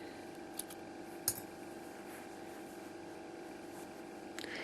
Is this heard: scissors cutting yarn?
yes